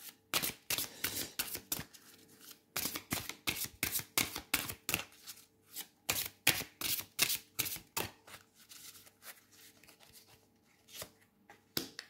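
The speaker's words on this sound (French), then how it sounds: "une carte de l'oracle Outre-Chimère. Un peu plus délicat à mélanger." Oracle cards being shuffled by hand, a quick rhythmic series of soft riffling slaps and flutters repeating throughout, close and fairly quiet with no talking.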